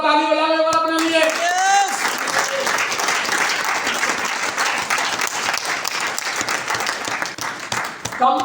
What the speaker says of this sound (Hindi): जोरदार ताली बजा लें अपने लिए